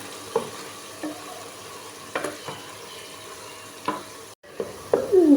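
Three to four sliced onions frying in oil until golden brown for haleem, a low steady sizzle broken by a handful of sharp spatula scrapes and stirs, with no talking.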